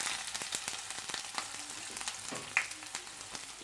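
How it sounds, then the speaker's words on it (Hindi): Cumin seeds and ginger fry in hot cooking oil in a pan, a continuous close crackling sizzle with scattered pops and light clicks. "कुछ सेकंड के लिए भून लेंगे।"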